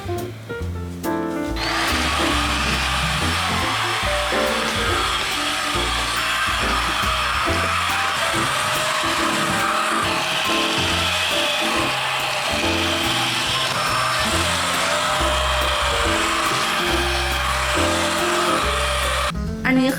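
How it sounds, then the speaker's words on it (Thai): A household vacuum cleaner switches on, runs with a loud, steady whining roar for most of the time during home cleaning, then cuts off, with other sounds faintly beneath. "ใช้เป็นเครื่องดูดฝุ่นอันนี้"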